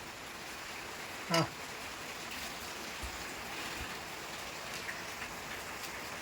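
Steady rain falls in a soft, even hiss throughout, with a single sharp knock partway through and a few faint taps.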